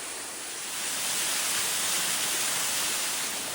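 Waterfall tumbling beside a rocky, granite stretch of the Appalachian Trail on Franconia Ridge, a steady, full broadband rush of falling water that swells slightly and holds loud and close throughout, with no voices.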